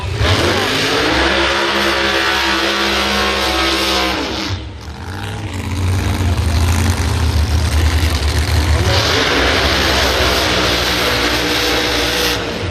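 A pro mod drag race car accelerating down the track at the U.S. Nationals, a loud, close, roaring engine sweeping up in pitch twice across the clip with a brief dip in between.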